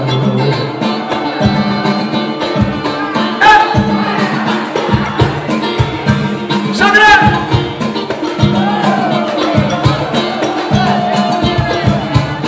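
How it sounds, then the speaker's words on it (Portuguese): Lively hand drums pounding a steady rhythm in a loud, busy room, with a crowd and voices mixed in throughout. "Esse é o som do tambor."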